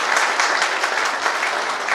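A large audience at a school safety training session in Raipur, India, claps steadily and continuously, a dense, even wash of applause with no voices over it.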